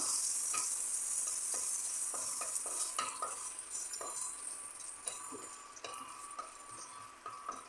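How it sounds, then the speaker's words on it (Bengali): Panch phoron spices fry in a pan for a sweet amra and coconut chutney: a soft sizzle under repeated light scraping and tapping of a stirring spoon, fairly faint and close. "পাঁচ ফোড়ন দিয়ে এটাকে খুব ভালো করে ভেজে নেব"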